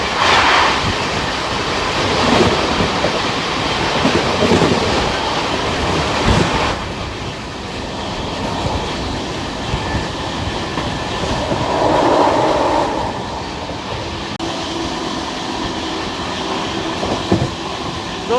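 The Delhi Pathankot Superfast Express passes close to another train running at about 110, heard from inside the moving train as a loud, steady rumble and rattling clatter of wheels on rails, with no talk.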